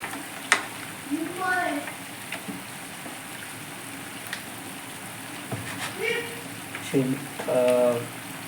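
Wheat-flour puris deep frying in hot oil give off a soft, constant sizzle, broken now and then by brief bits of talk.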